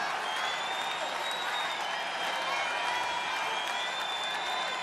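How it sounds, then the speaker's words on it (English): Baseball stadium crowd during a Houston Astros vs. Chicago White Sox game, a steady wash of distant applause and cheering that holds evenly throughout. "the crowd responds with some noise for you there"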